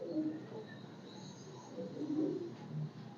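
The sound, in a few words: pigeon cooing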